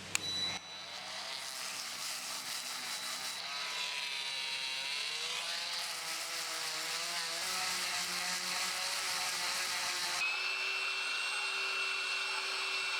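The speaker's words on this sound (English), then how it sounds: "we're just going to give it a light sanding using a detail sander" A steady, droning electric detail sander runs continuously at close range sanding filler, its pitch wavering slightly as it works across a surface, with a brief shift in tone near the end.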